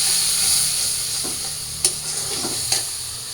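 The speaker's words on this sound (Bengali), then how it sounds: "তো এই যে আমার তেজপাতা জিরাটা ভাজা হয়ে গেছে, এবার মশলা দিয়ে দিই" Bay leaf, cumin, turmeric, coriander and chili powder sizzle in hot oil in a pan with a splash of water, a loud steady close frying hiss with a few soft stirring scrapes and no talk.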